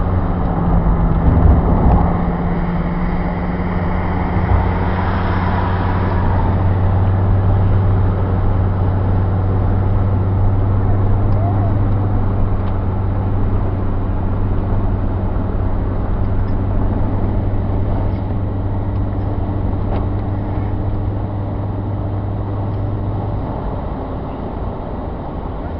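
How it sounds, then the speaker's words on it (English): A recently repaired car engine hums steadily from inside the vehicle while driving, a constant low drone with road noise and no talking. "We just had the car repaired, and it's running pretty good."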